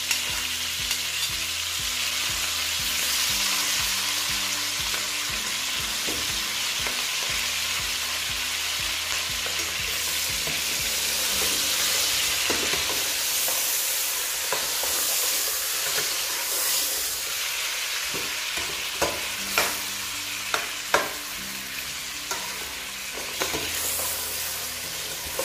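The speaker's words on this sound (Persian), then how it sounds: "بعد از این که یه مقداری گوشت سرخ شد، پیاز رو بهش اضافه میکنم" Beef shank and onion fry in a pan for a Persian dish, a loud steady sizzle and hiss that lasts throughout, with stirring scrapes and clinks growing more frequent toward the end.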